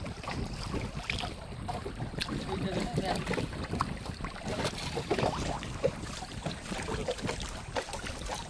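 A boat rowed through a strong current in the Sundarbans near Marichjhapi, with continuous splashing water and wind buffeting the microphone throughout.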